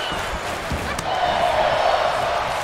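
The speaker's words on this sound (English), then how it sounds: "Crowd is chanting, this is awesome already" An arena crowd chanting in the wrestling game WWE 2K23, a steady roar with a rhythmic chant rising midway, punctuated by ring thuds and slams.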